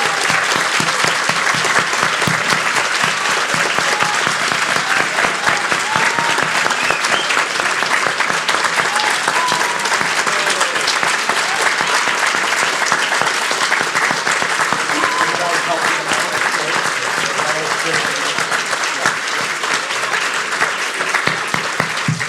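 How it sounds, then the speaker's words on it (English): A sustained, dense roar of applause from an audience honoring student finalists at a poetry ceremony, loud and continuous for over twenty seconds with many hands clapping at once and no break. "I'll ask the finalists to stand up and lead us in applauding all the finalists"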